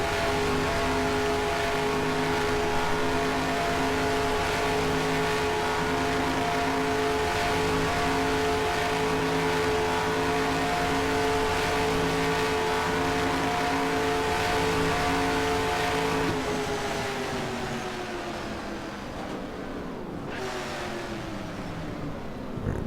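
Steady, loud race car engine drone from NR2003 sim racing, sustained high revs with a harmonic whine for about sixteen seconds, then the pitch drops as the engine winds down and shifts.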